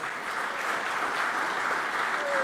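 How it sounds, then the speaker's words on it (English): An audience at a horse racing awards ceremony keeps up a steady wash of applause, fairly distant and even in loudness throughout. "A big round of applause,"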